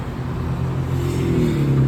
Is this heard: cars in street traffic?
yes